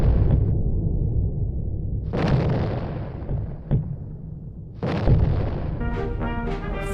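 Artillery fire sound effect depicting the firing on Fort Sumter: heavy booms with long rumbling tails, a sharp crack in between, then another burst followed by rising tonal sounds, all loud and without speech.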